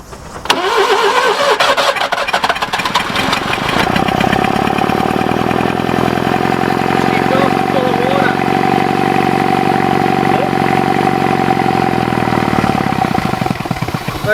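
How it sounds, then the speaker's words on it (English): Subaru Brumby ute with a blocked exhaust being started: a cranking starter chatters briefly, then the engine catches into a loud, steady, strained idle heard close up, with voices talking over it. "You just listen under this side when I try and start it."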